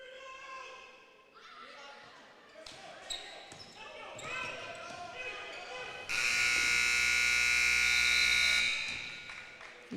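A varsity boys' basketball game buzzer sounds one loud sustained blast of about three seconds, following crowd noise and commentator talk in the gym.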